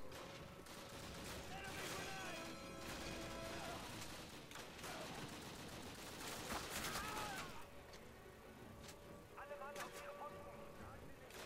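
Steady rifle and machine-gun fire crackles through a World War II battle in the classic Call of Duty, a dense, continuous fusillade of shots near and distant over battlefield noise.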